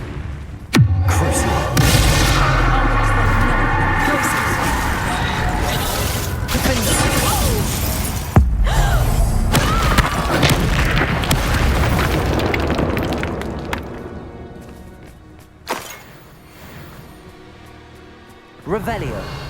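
A Confringo spell blasts in Hogwarts Legacy, one loud explosive boom after another amid dense game music and effects, with sharp bursts standing out near the start and middle and smaller pops toward the end.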